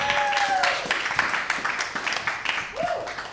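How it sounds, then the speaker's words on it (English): A live comedy show audience claps and cheers, a dense patter of applause with whoops and calls over it, while a voice talks through it. "Are you ready? Clap your hands."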